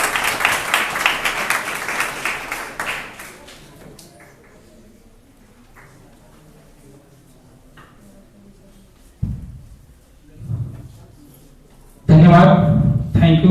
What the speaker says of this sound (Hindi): प्लीज जोरदार तालियों से स्वागत कीजिए